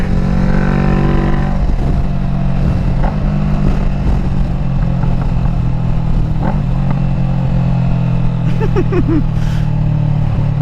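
A green motorcycle ridden through leaning turns, its engine a steady close drone with a faint wind rush, briefly rising in pitch near the end; no talk over it.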